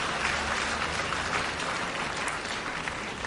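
An audience claps continuously at moderate loudness for a few seconds, with a sharp bump right at the end.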